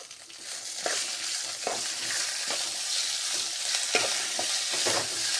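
Vegetables with home-grown mint and coriander fry in a pan with a continuous loud sizzle, while a spoon stirs and scrapes at a regular pace, about once a second.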